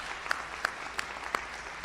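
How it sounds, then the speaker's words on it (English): At a 2024 university hooding ceremony, graduates applaud their supporters: soft, somewhat distant clapping with a few louder individual claps standing out at a regular pace. "applaud those who helped you on your road to your degree"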